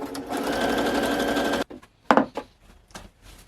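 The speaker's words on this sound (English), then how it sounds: "and then we're going to straight stitch the edge" A sewing machine runs a steady, fast straight stitch along the edge of a fabric robe for about a second and a half, close and even, then stops, leaving a few soft clicks and handling sounds.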